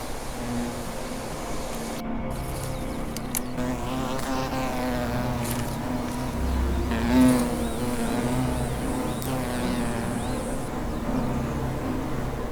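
A yellow-legged hornet buzzes steadily and close by in a deep forest on Jirisan, Korea, a continuous droning hum that wavers slightly in pitch for the whole stretch, with no talking.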